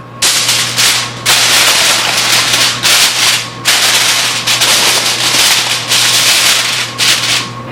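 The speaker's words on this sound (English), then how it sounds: "So now I'll place the aluminum foil on top." Aluminum foil crinkles and rustles loudly in repeated close bursts as it is pressed over a dish of creamy, cheesy potatoes before baking.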